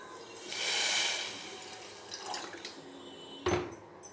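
Water poured from a container into a wide pan of sugar to start syrup for badusha, a short soft pour rising and fading over about a second, then faint clinks and one sharp knock of the pan.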